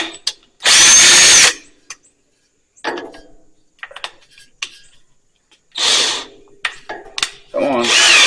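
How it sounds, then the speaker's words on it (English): A power drill spins a 5/16 tap down into oiled bolt holes on a Cub Cadet Original garden tractor engine, with loud bursts of whirring separated by pauses and scattered clicks and handling noises, the drill running twice. "Put a 5/16 tap on a drill. Run them down in there."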